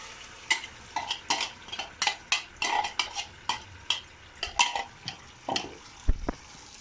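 A spoon scrapes and clacks rhythmically against a pan while tomato purée is stirred into toasted tomato paste, about a dozen quick close strokes with a faint sizzle beneath and no talk.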